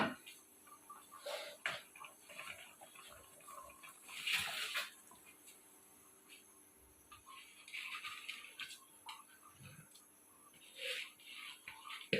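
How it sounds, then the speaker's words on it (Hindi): Water bubbling in a cooking pot as it comes to a boil for white chicken pulao, a quiet, steady simmer with soft intermittent swells and no talk. "ये देखिए हमारे पानी जो है वो बॉईल हो रहा है।"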